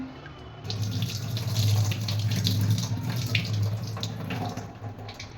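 Rice for vegetable dum biryani gets a second or third wash in a water-filled vessel. Continuous close splashing and swirling water runs for several seconds with no speech.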